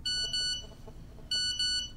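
Mobile phone text message notification tone: two loud bursts of bright, high electronic beeping, one at the start and one about a second later, with quieter noise between and no talk.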